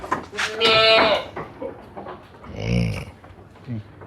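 Etawa crossbreed (PE) goats on a goat farm bleat loudly twice, one wavering call early and another later, with speech-like voices and pen noise in between.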